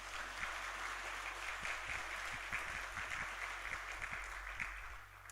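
A church congregation at a Sunday morning service claps steadily and evenly, a soft, dense patter of many hands that continues without voices throughout.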